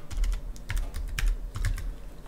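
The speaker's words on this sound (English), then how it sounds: "So I'm just going to type in" Typing on a computer keyboard, a quick irregular run of close, soft key clacks over about two seconds with no talking.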